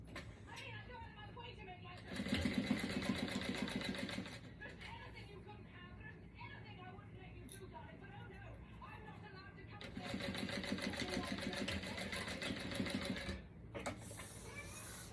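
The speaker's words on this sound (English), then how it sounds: "And then run it under your machine and sew that up." A home sewing machine stitching a small zipper pouch, running in two loud steady bursts of rapid stitching separated by quieter handling sounds, with a voice talking in between.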